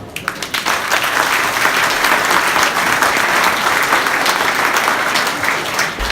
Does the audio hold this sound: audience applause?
yes